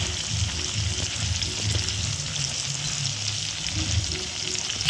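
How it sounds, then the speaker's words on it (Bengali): Chicken pieces deep-frying in oil for chicken pakoras, a steady, loud, dense sizzle and bubble that carries on unbroken with no voices. "চিকেনগুলো আমি ভালো করে ভেজে নিয়েছি। আর একটুখানি ভেজে নিয়ে তুলে নেব।"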